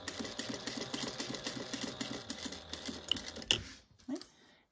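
A sewing machine stitches across the bottom of a fabric tomato pouch, giving a steady, fast mechanical whir that runs for about three and a half seconds before stopping, followed by a few faint handling clicks.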